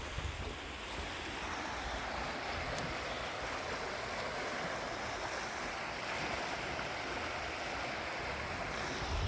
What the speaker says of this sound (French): Le bruit de la rivière.